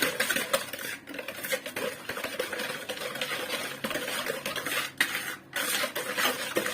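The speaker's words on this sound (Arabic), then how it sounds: "هندوب بقى كل المكونات دي مع بعضها" Orange cake ingredients are stirred together in a bowl, giving quick rhythmic scraping and clinking of a utensil against the bowl, steady and close with brief pauses.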